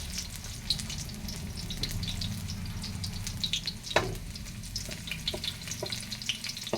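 Garlic frying in hot oil for a bottle gourd and sardines dish, with a dense close crackle and sizzle, scattered spatter pops and a few stirring knocks, without speech.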